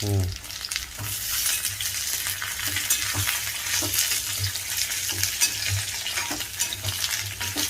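Brinjal pieces frying in oil for pickle give a steady, close sizzle with repeated scraping stirs and soft utensil knocks throughout, with no voices.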